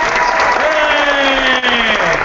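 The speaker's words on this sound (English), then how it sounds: "Come on, applause." Dense, loud applause from a wrestling crowd, continuous throughout, with tonal voices or cheering mixed in.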